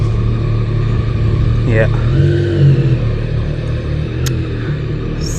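A motorcycle engine rumbles steadily close by, with a rising rev swell partway through as it pulls away on a morning ride; a brief voice is heard over the engine noise.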